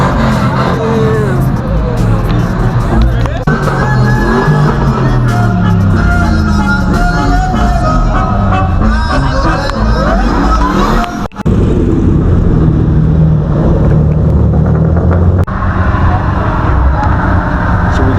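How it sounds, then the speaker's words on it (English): Loud roaring truck engines rev and whine as trucks do burnouts at a street car meet takeover, amid crowd chatter and street noise, with pitch sweeping up and down as wheels spin. "We got another truck in front of him doing a burnout."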